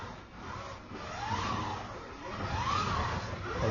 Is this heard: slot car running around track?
yes